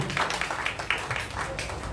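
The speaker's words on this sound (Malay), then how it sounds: "Ayo berikan tepukan gemuruh untuk saudara Muhammad Zaidi" Scattered applause from an audience at a PAS political campaign rally for the Slim by-election, a brief, moderately loud patter of clapping with crowd murmur underneath.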